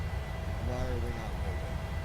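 Airplane accelerating down the runway on its takeoff roll at night, a steady low engine roar with rising tonal whine, heard from inside the cabin under speech.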